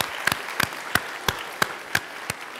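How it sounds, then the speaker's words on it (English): Sparse, evenly spaced claps ring out at a vacation Bible school closing for the student leaders, about eight sharp hand claps in a slow steady rhythm, close and moderately loud, with no crowd roar behind them. "So let's give them all a round of applause."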